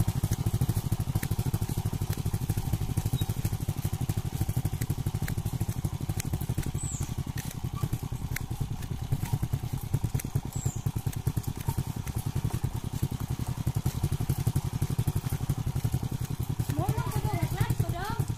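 A motorcycle engine runs steadily throughout, with a dense, continuous pulsing chug and occasional clatter as people talk over it.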